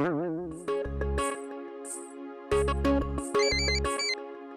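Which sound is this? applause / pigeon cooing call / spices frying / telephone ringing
telephone ringing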